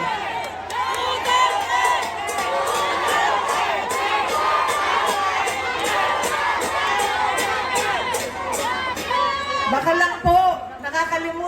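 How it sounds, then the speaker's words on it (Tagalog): A large political rally crowd in Manila chants and cheers continuously, many voices shouting together in a steady, loud roar that fills the whole stretch, with a brief sharper outburst near the end. "ang sigaw ng mga tao ay Duterte"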